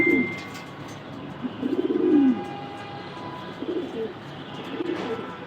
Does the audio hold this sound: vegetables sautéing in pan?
no